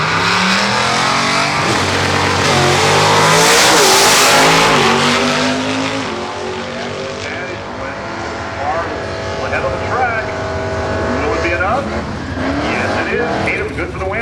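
Drag racing cars at Woodburn Dragstrip, a loud engine roar swelling as a car launches and passes, then fading into the distance while people talk nearby.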